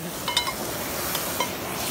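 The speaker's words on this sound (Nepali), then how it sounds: "मासु चाहिँ पाक्दैछ" Chicken meat cooks in a pot with a soft, continuous sizzle and bubbling at low volume, marked by a few faint metallic clinks of utensils. No one speaks.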